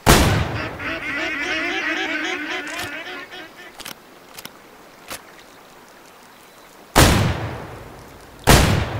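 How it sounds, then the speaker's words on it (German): In the hunting video game Way of the Hunter, two loud, sharp gunshot blasts fired at flying ducks ring out near the end, after a stretch of chattering, quacking birds and a few light clicks. "Einfach mal einen Schuss reinhalten."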